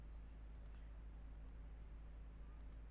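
Computer mouse clicking while measuring the distance along a road on a map in mapping software: three faint, paired clicks spaced about a second apart over a steady low hum.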